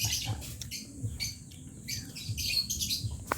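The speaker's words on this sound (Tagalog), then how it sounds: "Ibon yun." Bird calls chirp repeatedly at moderate distance, scattered over a busy outdoor background with faint low rumbling.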